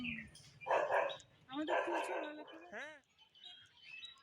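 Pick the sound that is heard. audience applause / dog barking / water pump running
dog barking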